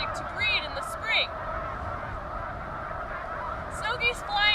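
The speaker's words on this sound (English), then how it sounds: "Snow geese also make a honking sound like Canada geese, but it tends to be a little bit higher pitched and more nasal sounding" A flock of snow geese gives higher-pitched, nasal honks in scattered bursts, several calls overlapping at a moderate distance over a steady outdoor background hiss.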